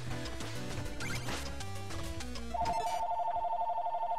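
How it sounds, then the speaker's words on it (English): A telephone ring chimes in steadily over the last couple of seconds, a bright repeating electronic tone that cuts in after upbeat game music with percussion fades out. "That's a phone."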